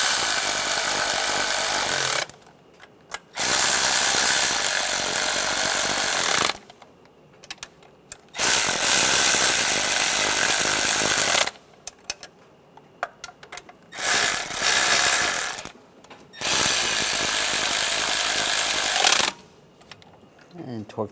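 A hand ratchet snugs down the valve cover bolts on a 1996–2002 Toyota 4Runner engine, rapid clicking bursts of a few seconds each separated by short pauses, close up.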